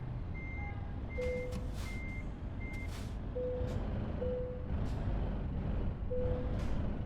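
A truck reversing in the Euro Truck Simulator 2 video game sounds a repeated electronic backup beep at regular intervals over a steady low engine rumble, fairly quiet overall.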